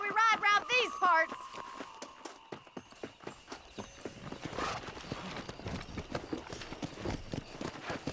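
A horse gallops in Red Dead Redemption 2, rapid clip-clop hoofbeats building after a short musical flourish, with riders' voices talking over the running hooves.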